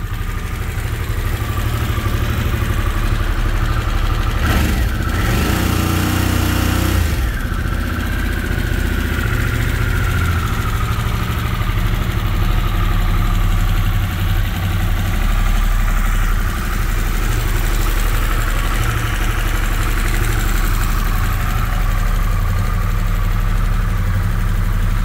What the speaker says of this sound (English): It's really loud.